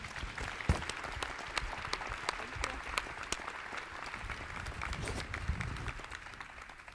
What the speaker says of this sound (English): please join me in giving a round of applause to this panel